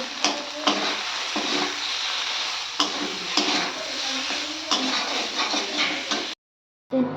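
Eggplant, tomato, ginger and green chilies sauté in a pan with a steady sizzle. Repeated scraping stirs break in at a regular pace, and the sound cuts out briefly near the end.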